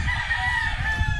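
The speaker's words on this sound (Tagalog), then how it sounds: "Itong tandang na to. May dugo na to ng Gilmore mga boss." Gilmore-bred gamecock rooster crowing loud and close, one sustained call held steady from start to end with no voices over it.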